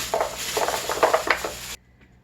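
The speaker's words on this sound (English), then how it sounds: "And now you're going to add in your baby carrots." Baby carrots tumbling into a pan of melted butter, a busy clatter and sizzle of pieces knocking against the pan, steady for under two seconds before cutting off abruptly.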